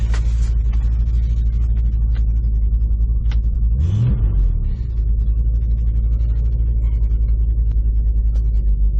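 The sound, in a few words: 1969 Ford Mustang engine rumbling while shifting gears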